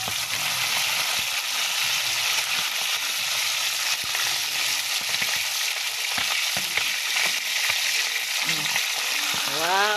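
Fish sizzles and spatters steadily in hot cooking oil, a loud, dense crackle running throughout with occasional stirring clatter, close by and without talk.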